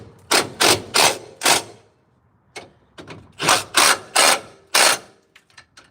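A ratchet tightens the bumper bolts on a 1999 Ford F250, sounding as short, close bursts of rapid clicking in two clusters separated by a brief pause.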